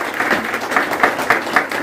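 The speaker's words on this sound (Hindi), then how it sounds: "एक बार सर के नाम पर मैं ताली चाहूंगा" Audience applause in a motivational seminar hall, a dense steady patter of many hands clapping throughout with no speech over it.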